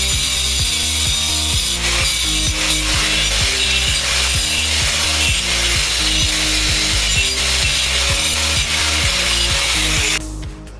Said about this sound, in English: I'll see if I can do it with this diamond blade.